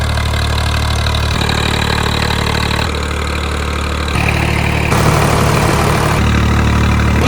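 A tractor with a newly fitted engine idles steadily on a hot day, a loud continuous diesel drone whose pitch and texture shift in a few abrupt steps, with no talking.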